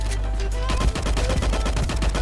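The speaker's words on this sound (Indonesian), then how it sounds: "ada yang nembakin lo di belakang loh" Rapid automatic gunfire in the shooter game LifeAfter, a fast stream of close, loud shots firing from behind the player, with no talk.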